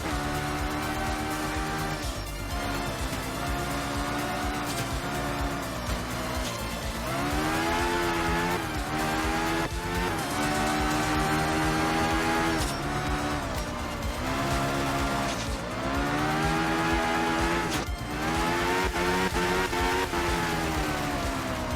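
A race car engine in a racing video game, revving high and drifting through a long run, pitch rising and dropping with repeated gear shifts, tires squealing over the steady loud drone.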